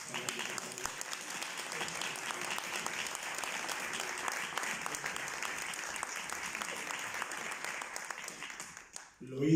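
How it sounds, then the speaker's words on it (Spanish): Sustained audience applause at the closing ceremony of an academic congress on classical studies, honouring a national prize winner; dense, steady clapping from a large crowd lasting nearly ten seconds before ending abruptly. "Así que le vais a dar un aplauso"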